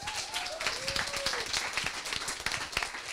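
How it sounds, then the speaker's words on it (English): An audience at a coding bootcamp demo day applauds steadily with dense, continuous clapping, while a few whistles rise above the crowd. "a big round of applause for Whiskit."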